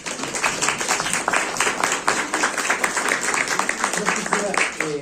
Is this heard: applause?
yes